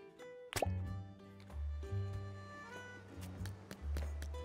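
Water drips and plops repeatedly while plants are watered in the farming video game Dinkum, distinct droplet sounds landing over steady low game tones, fairly close and clear with no talk.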